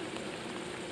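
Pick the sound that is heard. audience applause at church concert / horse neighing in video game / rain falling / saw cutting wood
rain falling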